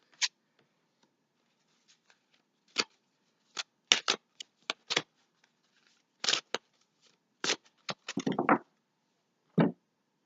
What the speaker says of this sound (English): Cards are flying out for you.